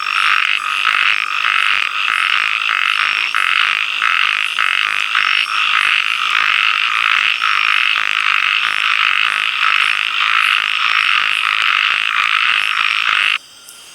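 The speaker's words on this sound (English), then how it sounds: "We saw a lot of these type of narrow-mouthed frogs, and despite their small size, I think they were definitely one of the loudest ones." Narrow-mouthed frogs call in Thailand, a loud, dense chorus of rapid, rhythmic croaking pulses that continues nearly throughout before cutting off abruptly at the very end.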